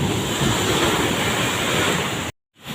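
Sea waves and wind at a beach in Davao roar as a loud, dense, continuous wash close to the microphone, then cut to near silence before faint noise returns.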